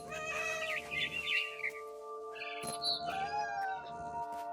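A cat meows repeatedly in the video game What Remains of Edith Finch, with drawn-out, wavering cries and brief chirp-like calls over a sustained tonal background, close and clear.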